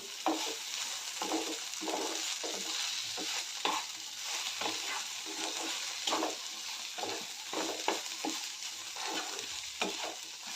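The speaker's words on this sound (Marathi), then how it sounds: "भेंडी चांगले फ्राय झालेले आहेत ह्यामध्ये आता एक चमचा मीठ घालते मीठ घालून चांगलं मिक्स करून घेऊया" Fried okra with a spoonful of salt is stirred in a pan, giving rhythmic scraping strokes over a continuous sizzle, close up and with no talking.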